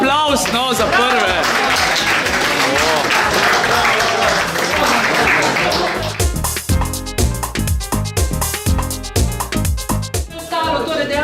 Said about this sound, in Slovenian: Bravo, en aplavz, no, za prve!